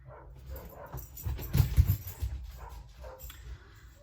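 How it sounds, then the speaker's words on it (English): A dog whines indoors, a pet reacting to another dog barking somewhere, with soft whimpering cries that swell in the middle of the clip and then fade, with no talk over it. "my dog starts whining when he hears another dog barking"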